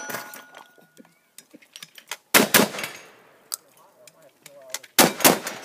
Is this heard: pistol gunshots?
yes